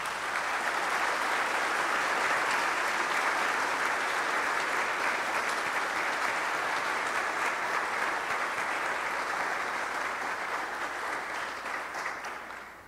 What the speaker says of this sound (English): I think we will applaud for these young people.